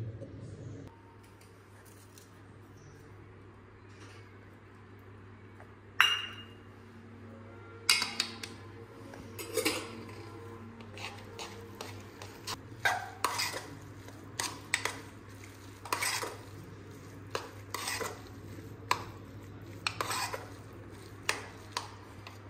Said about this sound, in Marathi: आता त्यात मसाला घालूया आणि सगळं मिक्स करूया